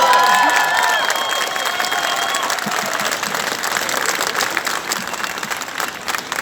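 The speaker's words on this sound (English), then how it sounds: "I'm going to hand you over to Father Paddy, and a big round of applause, please." Audience applause following an introduction at a pro-life speaking event, loud, sustained clapping from a large crowd that stays steady throughout, with a few faint whistles near the start.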